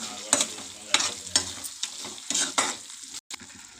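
Eggplant curry with chilli powder, salt and coriander powder is stirred in a hot pan, with a gentle sizzle and a rhythmic series of close scraping strokes at roughly half-second intervals, and no talking.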